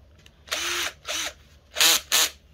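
A drill bit boring into firm wood: four short bursts of whining drilling, the last two louder, separated by brief pauses, close up with no speech.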